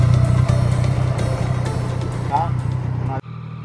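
A Yamaha MT-09 SP motorcycle rumbles steadily on a test ride, its deep engine note loud and close under wind noise and a voice, then cuts abruptly near the end.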